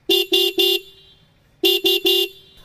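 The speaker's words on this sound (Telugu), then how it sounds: "హార్న్ యొక్క లౌడ్నెస్ ఒకసారి చెక్ చేద్దాం." A 2024 Bajaj Pulsar 220F motorcycle horn blares in two bursts of three short, loud, bright honks each, separated by a brief pause, close and alone.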